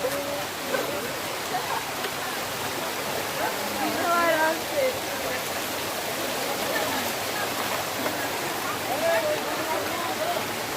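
Rushing water of Bamni waterfall in Purulia roars steadily and fairly loud, a broad constant wash with faint bird calls threaded through; no speech.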